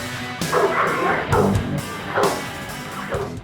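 An American Bandog, a large guard-dog breed, barks in a run of deep woofs and yips, four or five loud close barks spaced roughly evenly with no talking.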